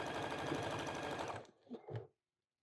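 A sewing machine stitches a seam in flannel for an extra-large bowl cozy, a steady close mechanical whir for about a second and a half, then two short bursts before stopping.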